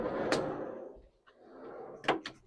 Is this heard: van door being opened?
yes